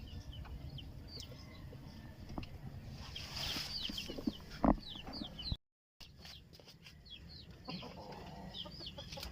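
Native chickens with colds cluck and chatter softly at close range in a farmyard, with scattered short calls over a quiet background and a single sharp knock midway before a brief gap.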